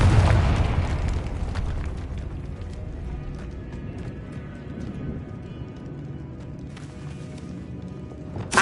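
The Confringo fire spell in Hogwarts Legacy bursts in a heavy explosive boom that fades into a long, rumbling decay, with smaller game effects crackling faintly afterward.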